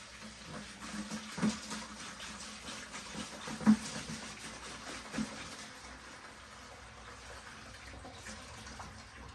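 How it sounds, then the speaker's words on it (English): Water runs softly and steadily while gold concentrates are washed into a bucket, a faint outdoor trickle broken by a few small splashes and knocks. "There comes the water."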